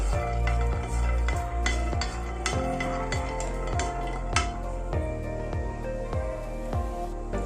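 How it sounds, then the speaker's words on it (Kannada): Peanuts dry-frying in a hot pan while being stirred, a dense rattle of nuts tumbling against metal with regular scraping strokes, close and steady, nobody speaking. "ಶೇಂಗಾ ಬೀಜನ ಇದಕ್ಕೆ ಹಾಕಿ ಸ್ವಲ್ಪ ಫ್ರೈ ಮಾಡ್ಕೋಬೇಕು"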